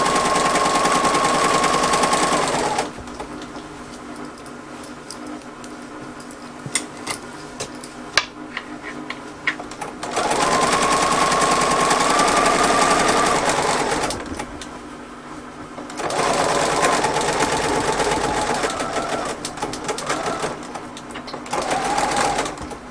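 A sewing machine stitches reinforcing seams on a bag handle in three long, loud rattling runs, with quieter pauses and small clicks between them.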